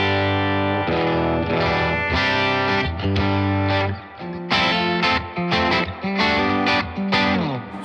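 Electric guitar played through an amp with the booster off, amp and reverb only, chords ringing out with reverb tails, then choppier strummed chords with short gaps, loud and up close.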